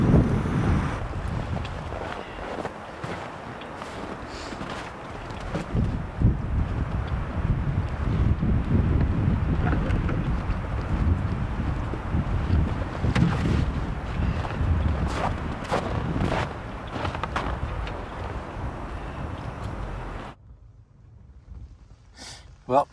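Gusting wind buffets a cold winter campsite on Pikes Peak, Colorado, a loud rushing roar with flapping and rustling, sometimes masking a faint voice, then dropping off abruptly to near quiet at the end.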